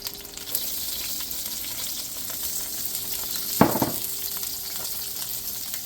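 Shallots hitting a hot pan for Mongolian beef, a steady sizzle of frying with a sharper burst of crackle and stirring partway through, close and alone with no voices.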